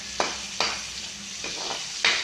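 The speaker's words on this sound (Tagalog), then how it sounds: "So yun, linunod na ang bawang mga kamaskara." Garlic fries in hot oil for kaldereta, a steady close sizzle punctuated by four sharp stirring scrapes, with no talking.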